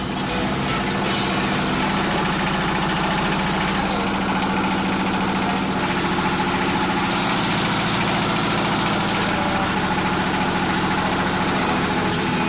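A motorized grinder mills soaked soybeans into slurry for tofu, giving a loud, steady engine-like drone with a constant low rumble and vibration that runs unbroken and close throughout.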